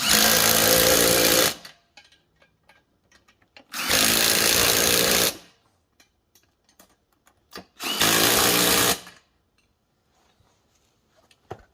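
Power tool tightening bolts on a Staworks double beadlock wheel: three loud, close bursts of impact-style whirring, each about a second and a half long, separated by quiet pauses with faint clicks.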